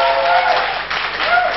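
Studio audience applause on the Vietnamese student quiz show Road to Olympia (Đường Lên Đỉnh Olympia) after a contestant finishes singing, a dense, steady wash of many hands clapping at close range, with faint tonal traces underneath.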